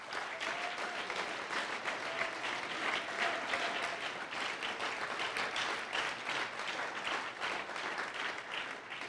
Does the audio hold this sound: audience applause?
yes